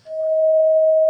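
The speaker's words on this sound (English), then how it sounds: "This is called what we call a perfect fifth." A synthesized pure tone, part of a perfect fifth built on A by a 3/2 frequency ratio, sounds steady and loud for about a second with no talking.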